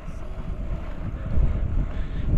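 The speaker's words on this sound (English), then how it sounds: "Trying to find a gap in the wind." Wind buffeting the microphone while riding with the windows open, a close, gusty low roar that swells partway through, with no voices.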